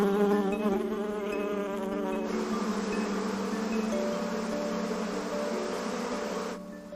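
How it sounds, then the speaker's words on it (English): Close, continuous buzzing of bees, bumblebees and honeybees, foraging in a garden in warm weather, a droning harmonic hum that shifts in pitch as insects move near and away, with no talk. "Bumblebees tolerate lower temperatures, while honeybees love the warmer weather."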